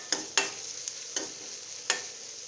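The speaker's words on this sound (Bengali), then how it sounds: "এটাকে একটু ব্রাউন কালার করে ভেজে নিতে হবে।" Pieces of elephant foot yam frying in a pan until brown, with several crisp stirring taps against the pan over a faint, continuous sizzle, heard alone without talk.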